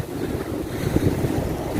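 Monsoon-season wind buffeting the microphone on a Chanthaburi beach, with rough sea surf rolling underneath as a continuous, loud, low roar.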